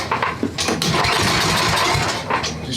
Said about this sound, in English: I need enough room to give it a pull start.